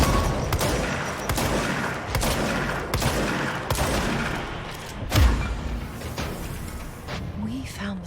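Grenade explosions and heavy gunfire in the video game Control, a string of sharp booming blasts spaced about a second apart with a deeper thump midway, loud and close over a dense battle din.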